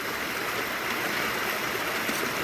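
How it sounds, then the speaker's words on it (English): Steady, loud rushing of water flowing through a gold mining sluice box outdoors, a constant broadband wash with no pauses and no voices. "Sluice is flowing nice."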